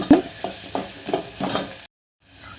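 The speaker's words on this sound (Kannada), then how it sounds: "ಈರುಳ್ಳಿನ ಚೆನ್ನಾಗಿ ಎಣ್ಣೆಯಲ್ಲಿನೇ ಬೇಯಿಸ್ಕೋಬೇಕು" Onions cook in hot oil with turmeric added, a soft sizzle broken by several scraping stirs of a spoon in the pan, then a brief silence before the frying resumes quietly.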